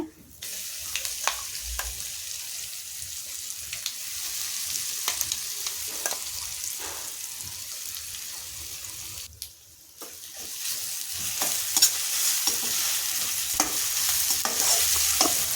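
Ground masala sizzles in hot tempering oil for masala chitranna while a spoon stirs and scrapes the pan; the frying hiss grows louder partway through, with no talking.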